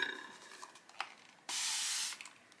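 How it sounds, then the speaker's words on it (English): A spray bottle mists water onto watercolour paper in one steady hiss lasting about half a second, close and fairly loud, with soft brush taps and handling noises before and after. "And we'll give another little spray."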